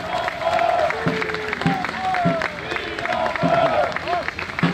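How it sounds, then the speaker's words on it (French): Crowd applause for Napoleonic reenactment troops at an outdoor battle reenactment in Montereau, steady clapping and cheering underneath a voice speaking over a loudspeaker. "Vous pouvez les applaudir."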